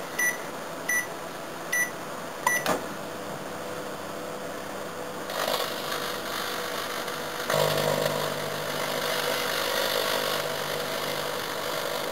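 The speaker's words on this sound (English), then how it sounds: "Now I've got a microwave outside." A microwave oven beeps a few times as its buttons are pressed, then starts running with a steady hum that grows louder partway through.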